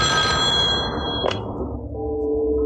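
A telephone rings in a Hindi film scene, giving sustained electronic tones that fade, then a softer ringing tone over low background noise.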